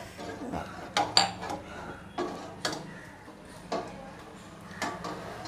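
A starch mixture stirred into boiling water in a pot, the spoon knocking the rim in sharp, evenly spaced clinks about once a second over a soft, steady background.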